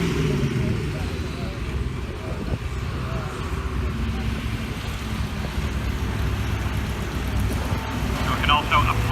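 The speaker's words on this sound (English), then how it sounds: "more resistance we can put on the tractor, increasing to around 40 tons as a dead weight at the opposite end." A tractor hauls a weighted sledge of around 40 tons dead weight at a rally, its engine a steady low, loud drone throughout with a brief higher mechanical whine near the end, amid outdoor crowd murmur.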